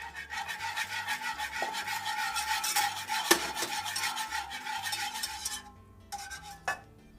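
A whisk rasps steadily against a pot as hot broth is worked into mole paste over low heat, close and continuous, with a few louder clanks and a brief pause near the end.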